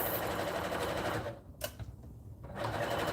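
A sewing machine used for stitching blankets runs in a quiet, steady rapid chatter that stops briefly with a small click near the middle, then resumes.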